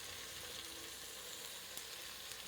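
Carrot, onion, celery and leek frying in a pan for a brie and prosciutto risotto, a steady broadband sizzle with faint crackles, close and continuous with no talk.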